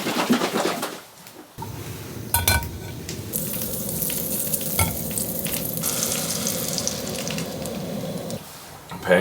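Pancakes fry in a pan at a cabin after a heavy winter rainstorm, a steady close crackling sizzle with a few clinks and scrapes, lasting several seconds.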